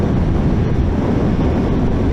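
Heavy wind buffets the microphone while riding a Honda CMX1100 Rebel motorcycle, a loud, constant roaring rush with no break and no speech.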